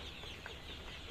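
Broiler chickens about 41 to 42 days old, pecking at each other in a poultry shed, with a faint cluck rising briefly over a steady dense background hum, quiet and somewhat distant.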